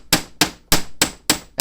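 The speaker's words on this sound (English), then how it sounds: "So I apply more pressure with the hammer at this end and hammer longer" Five sharp metal hammer blows strike the end of a wire, flattening it into a paddle shape on a hard surface. The strikes are loud and close, spaced evenly about a third of a second apart, with no voices.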